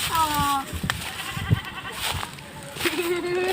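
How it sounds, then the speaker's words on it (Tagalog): Goats bleating nearby in rural Nueva Ecija, Philippines, a couple of wavering calls mixed with people talking and some outdoor rustling. "Yan ang mga alaga rito, kambing."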